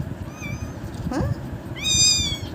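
A hungry kitten meows in short, high, thin calls: one near the start, a brief chirp in the middle and a louder, longer cry near the end, close to the listener over quiet room noise.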